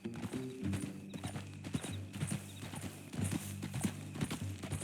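A horse's hooves clip-clop steadily at a walking pace in the video game Red Dead Redemption 2, with creaking tack and low mechanical tones under them.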